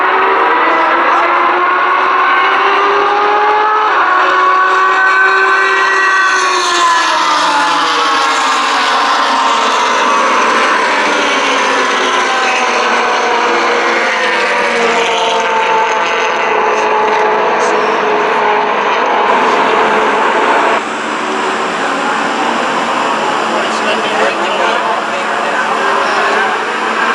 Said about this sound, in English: Race cars in and now we start.